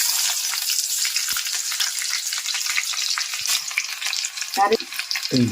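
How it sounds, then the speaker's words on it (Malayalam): Chopped shallots and mustard seeds sizzle steadily in hot coconut oil in a Kerala village kitchen, a dense continuous crackling fry with a couple of brief louder spits near the end. "ഇനി അരിഞ്ഞു വെച്ചിരിക്കുന്ന ചുമന്നുള്ളിയാണ് ഇത് ഇടുന്നത്."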